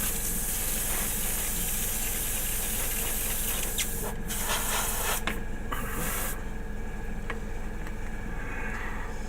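An airbrush gives a light dusting of red paint along the edges of a War of the Worlds model kit, heard as a continuous close hiss of air spray with brief shifts in tone, with no talking.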